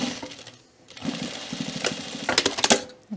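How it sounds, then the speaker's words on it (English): A sewing machine stitches fleece along a raw edge for a pullover, running in short bursts of rapid mechanical whirring with brief pauses between runs, close and fairly loud, with no talking. "I'm going to stitch it down first. Just on the raw edge there"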